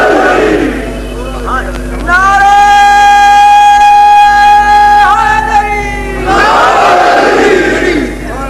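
A large religious gathering answers with a loud crowd chant: a mass shout, then a long sustained unison cry, then another roaring burst of voices, booming through a hall sound system.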